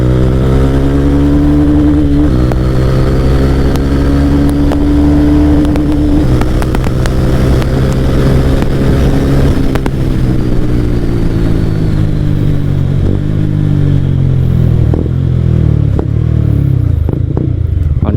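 A Mahindra Mojo motorcycle engine pulls loudly and continuously in second gear, its pitch rising and falling as it labours and revs, close up with no talk.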